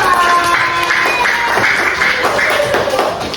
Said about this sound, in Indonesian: mari tepuk tangan dulu untuk kelompok dulu